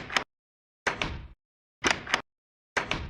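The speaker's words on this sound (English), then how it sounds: "If you remember this door sound, you are a veteran Minecraft player." Old Minecraft wooden door sound from the video game, four short clunky thuds in a slow, even rhythm, each separated by silence, close and fairly loud.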